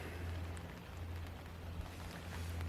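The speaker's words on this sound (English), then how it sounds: "And now it's starting to rain a lot" Steady rain falling on a sailing boat anchored in Greece in winter, a continuous soft patter with a low rumble underneath, no voices.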